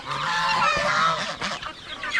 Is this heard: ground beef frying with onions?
no